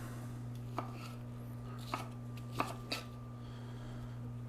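A knife chops ingredients for a pork chorizo verde into chunks to fit a blender, four sparse, faint thuds on a board over a steady background hum, with no talking.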